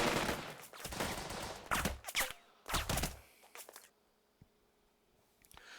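Squad rifle and machine-gun fire in the Burden of Command war game, several loud bursts of shots crowding the first three seconds, then trailing off to quieter scattered sounds.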